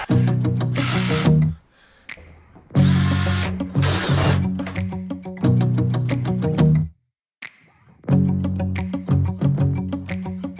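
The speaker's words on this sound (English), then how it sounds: "Next, we gotta drill the hole for the float valve" A power drill whirs loudly in three long bursts with short pauses between, the motor whining and grinding as it bores a 1/2-inch hole for a float valve.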